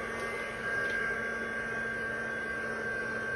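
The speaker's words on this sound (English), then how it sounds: "I'll have to dry this. I'm going to put it under the table so maybe it won't be so loud." A craft heat dryer runs beneath a table, giving a low, steady electrical hum with a faint airy whir, quiet and unchanging throughout.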